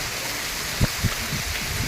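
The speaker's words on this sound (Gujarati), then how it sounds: "બે દિવસ એવો વરસાદ પડે છે" Heavy rain pours down in a steady, dense hiss that fills the whole stretch, with a few soft low thumps of drops landing close by and no voices.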